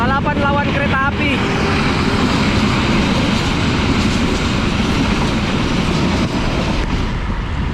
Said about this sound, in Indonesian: Balapan lawan kereta api.